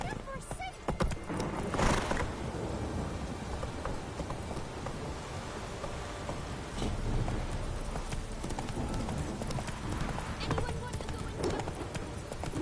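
A horse in The Witcher video game clip-clops along while being ridden, with steady hoof beats under ambient game sound and background noise throughout.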